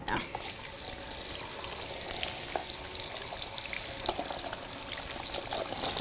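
Running water from a salon hair-wash shower head sprays and splashes steadily and close by throughout, a broad hiss with small splatters.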